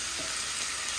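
Onion and garlic frying in a pan, giving a steady, dense sizzle that stays even and close throughout with no voices.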